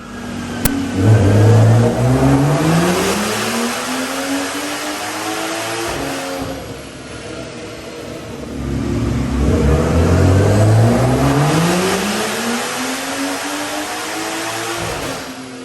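A turbocharged car engine run on a dyno in rear-wheel-drive mode, revving loudly in two long sweeping pulls with rising pitch, a drop in between, and no talk.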